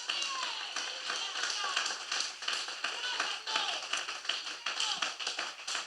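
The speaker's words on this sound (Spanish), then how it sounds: "Denle un aplauso fuerte al Señor Jesús." A church congregation applauds the Lord, dense rapid clapping from many hands filling the room, with voices and shouts mixed in throughout.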